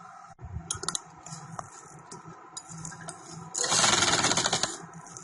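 A sewing machine stitching a white trouser runs in short bursts, with a louder, denser stretch of continuous stitching near the end.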